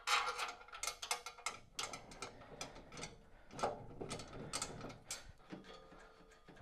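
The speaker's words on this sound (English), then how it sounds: "Just while I do these bolts up here." A ratchet wrench tightens bolts while a treadmill is assembled, giving quick bursts of close, crisp clicking that stop and restart in short runs.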